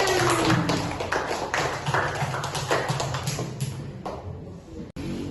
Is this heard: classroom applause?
yes